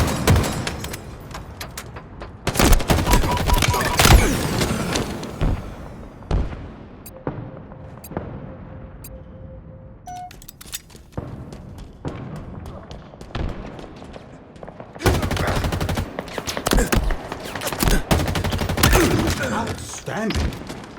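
Gunfire in Halo Infinite free-for-all multiplayer on the Chasm map: dense bursts of rapid shots and heavy thumps, alternating with quieter gaps, while an announcer voice speaks over the action.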